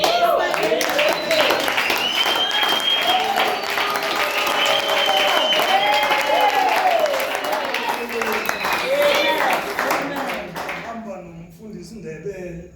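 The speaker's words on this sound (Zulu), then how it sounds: "Abaphakame nje sibashaya ihlombe." A church congregation applauds together, a sustained, dense crowd clapping that stays loud for about ten seconds, then tapers off as voices carry on underneath.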